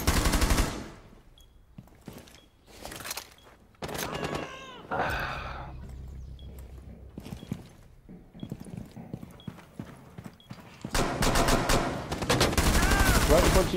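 Gunfire in the tactical shooter Rainbow Six crackles in sharp, loud bursts and rapid volleys separated by brief lulls, with a heavier barrage building toward the end.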